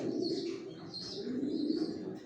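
Pigeons of original racing stock, Johnson line, coo and murmur steadily inside a loft, a close, continuous low cooing with occasional higher chirps over roughly two seconds, with no voices.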